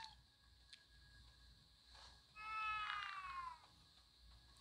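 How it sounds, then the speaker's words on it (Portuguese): A cat in The Division Resurgence lets out a single drawn-out meow, soft and near, over a quiet game background. "Temos um gatinho aqui."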